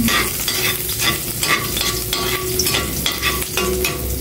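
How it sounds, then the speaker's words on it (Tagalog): Garlic sautés in a hot pan as the first step of ampalaya with egg, giving a steady close-up sizzle broken by repeated scraping stirs against the pan, with no talking. "Igisa ko na itong bawang."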